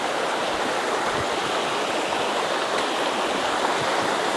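The Kawa-Kawa River in Barangay Jolo, Roxas, Palawan flows as a steady, close, full rushing of stream water, broad and unbroken throughout.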